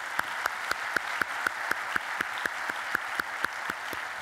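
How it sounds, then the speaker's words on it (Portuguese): Rapid, even rhythmic clapping, sounding like a modest audience or a single close pair of hands, keeps a steady beat for several seconds at a motivational talk in Guimarães. No voices are heard over it. "Uma salva de palmas por terem permitido que isto acontecesse."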